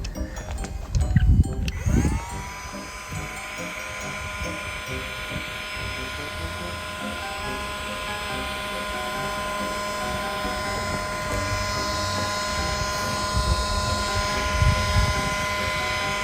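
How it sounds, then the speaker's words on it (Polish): A Parkside cordless heat gun blows steadily against a frozen car window, a continuous whirring fan drone that starts abruptly after a few seconds of handling noise and holds at an even, close level. "mamy opalarkę bezprzewodową, dzięki czemu możemy w prosty sposób odmrozić lód"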